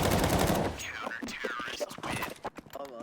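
Gunfire in the video game Counter-Strike 2, a loud dense burst of shots at the start that gives way to a person talking over quieter game sounds.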